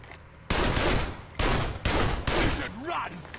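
Saints Row 2 gunfire rings out in four loud, sharp bursts spaced roughly half a second apart, each with a short echoing tail, with a faint voice-like warble near the end.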